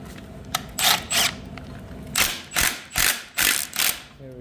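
Bolts being snugged down on a cleaned power steering tank in an FD RX-7 engine bay: a string of close, short ratcheting bursts, one after another with brief pauses, alone without talk.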